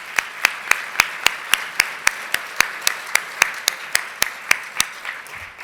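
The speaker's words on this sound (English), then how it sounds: "Please give a round of applause to our sponsors" A single person clapping slowly and evenly, about three claps a second, crisp and close, for the sponsors at a CEO of the Year awards event, with no talk over it.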